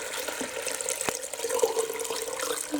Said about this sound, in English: Now we're going to add 8 cups of water into our beans here.